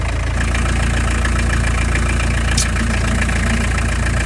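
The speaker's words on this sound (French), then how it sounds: "moteur allumé" A Peugeot J5 van's engine idles close by with a steady, continuous low rumble, no talking over it.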